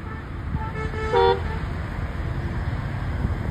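A car horn gives one short toot in a highway traffic jam at a roadside stop, heard over a steady roar of engines and road noise, with a few fainter beeps.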